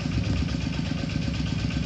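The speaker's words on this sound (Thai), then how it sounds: "เสียงรถไถลุงสนไปเกี่ยวหญ้า" A farm tractor heading out to cut grass runs at a steady, low chugging idle, its engine thrumming continuously and fairly close with no voices over it.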